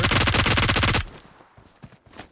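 Rapid automatic gunfire from PUBG Mobile on the Erangel map, a loud, dense stream of shots for about a second that cuts off abruptly, leaving faint scattered game noises.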